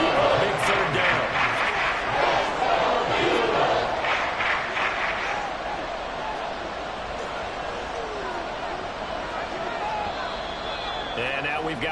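Large football stadium crowd roaring during a Browns vs Eagles game, a loud sustained wall of noise with swells of cheering that eases slightly later, with an announcer talking over it.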